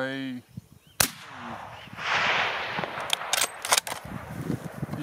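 A single sharp rifle gunshot cracks out loud and close during a deer hunt on public land, followed by rustling and faint outdoor movement.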